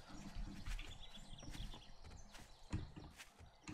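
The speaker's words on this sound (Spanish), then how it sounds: "¿Oigo pasitos corriendo?" Rapid running footsteps in the survival video game 7 Days To Die, a quick series of light thuds and clatters close by with a heavier hit near the end, no talking.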